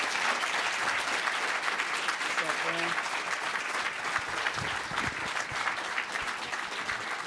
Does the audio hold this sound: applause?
yes